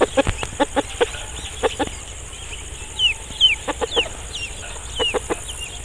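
Several short clucks from an Aseel rooster in bursts, with chirping birds in the background and no talking.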